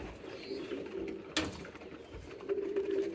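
Pigeons cooing at a loft where a pair has young chicks, low rolling coos repeating through the clip with a brief sharp clatter near the middle, moderately close.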